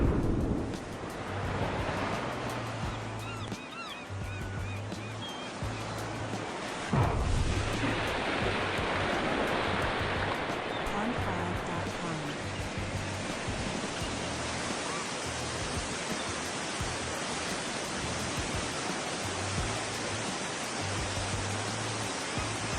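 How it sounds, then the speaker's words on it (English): An underwater nuclear bomb detonation at sea gives a sustained, roaring wash of noise, loud and broad like surging water and wind, with a heavier rumbling swell a few seconds in before the roar carries on unbroken. "this is what happens when a nuclear bomb is detonated under the ocean"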